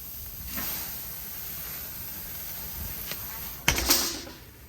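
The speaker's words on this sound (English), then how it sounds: "just open up the grill and just kind of lay it down. And you can see that really nice sear immediately" Skirt steak sears on a hot grill, a moderate sizzling hiss that swells as the meat settles and flares in a louder burst near the end.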